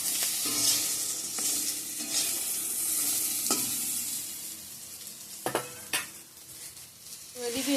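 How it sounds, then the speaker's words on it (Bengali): Taro (kochu) frying in a home kitchen pan gives a steady close sizzle, with repeated scraping stirs and light clinks of a utensil against the pan throughout. "কচুটা ভেজে রাখছি"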